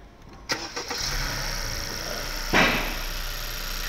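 A Honda Civic FK7 engine with its stock intake cranks over with a few quick bursts, catches and settles into a steady idle. It revs briefly partway through.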